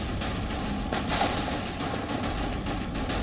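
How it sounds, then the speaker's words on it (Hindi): Russian army artillery cannon fire in wartime, repeated heavy booms and thuds spaced across a constant rumbling background, distant-sounding with no voices. "इसी वीडियो में रूसी आर्मी के जवान तोप से गोलीबारी करते दिख रहे हैं।"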